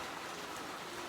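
Light rain falls in a soft, steady patter, a faint and even wash of drops with no breaks and no voices.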